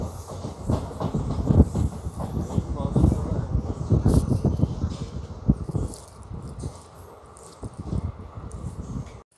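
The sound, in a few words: train stopping at Medchal railway station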